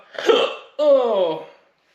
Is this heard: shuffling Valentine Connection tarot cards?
no